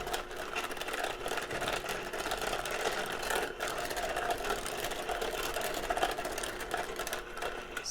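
A blender whirs steadily while mixing chocolate into milk, making a continuous busy motor drone with a faint rattle that holds at an even loudness throughout.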